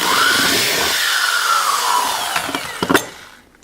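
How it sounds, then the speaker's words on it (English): A power drill boring a hole through the steel frame of a 1999–2007 Chevrolet Silverado, a loud high whining grind for about three seconds, close by, ending with a few clunks as the bit breaks through. "We're going to drill our hole."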